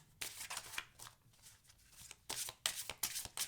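Angel Power Wisdom oracle cards being shuffled by hand, several quick papery riffling bursts with short pauses between them, close and fairly quiet, with no talking.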